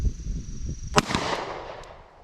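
A single sharp report from a Glock 29 firing a 40 Smith & Wesson Federal HST 180-grain round cracks out loudly, followed by a quick echo that decays into outdoor ambience.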